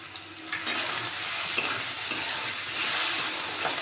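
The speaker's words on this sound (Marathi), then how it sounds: "बटाटा चांगला फ्राय करून घ्यायचा आहे तेलामध्ये।" Potato pieces fry in hot oil with salt in a pan, giving a steady, loud, close sizzle with occasional stirring scrapes throughout, with no voices.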